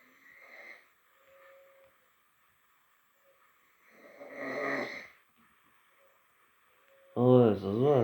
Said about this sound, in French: C'est moi qui ronfle, ça?